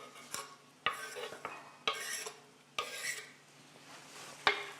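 Onions and cilantro sautéing in a pan, with a utensil stirring and scraping against it in repeated strokes roughly every second, close up over a soft background sizzle, with no talking.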